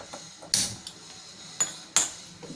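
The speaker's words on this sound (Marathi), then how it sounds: "कुकर ठेवूया त्यावरती।" A pressure cooker of palak dal is set down on a gas stove, giving a few sharp metallic clanks and knocks against the burner grate, close and loud, with no voices.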